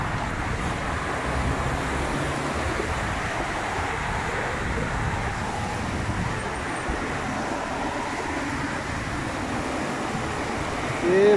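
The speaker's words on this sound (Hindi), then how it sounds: "ये भाई सऊदी अरब मक्का में बारिश हो रही है।" Rain and wind sweep across the open grounds of Masjid al-Haram in Mecca, making a dense, even hiss and rush that runs throughout, with no talking.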